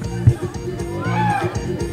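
Cattle mooing during a bull release event at a Brazilian farm rodeo, a low bellowing call rising under nearby chatter, with people talking and a murmuring crowd around it.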